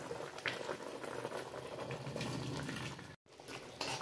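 Fish curry with greens and potato simmering after fried fish pieces are added, a steady, close, continuous bubbling boil with a brief dropout near the end.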